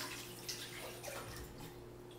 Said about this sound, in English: I'm just gonna wash my hands here